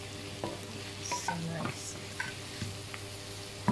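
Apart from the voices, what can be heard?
onion and tomato cooking in a pan for chicken curry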